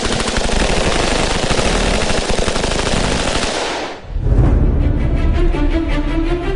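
Sustained, loud rapid gunfire from assault rifles and submachine guns rattles continuously, briefly dipping before another dense burst of automatic fire resumes, close and alone with no talking.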